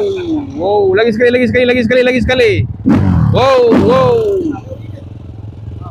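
A QJ Moto scooter engine revs up and drops back in two loud, close bursts, with a voice speaking over the engine noise.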